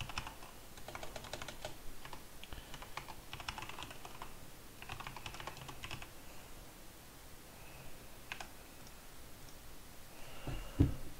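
Fingers type on a computer keyboard in a steady, irregular patter of soft clicks that keeps going throughout, fairly quiet, with no talking.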